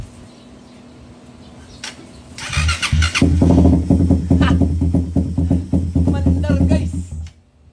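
A motorcycle on a stock ECU, with a large throttle body, stock fuel line and TPS, cranks and fires up, then runs at a loud, uneven, lumpy idle for about five seconds before cutting out.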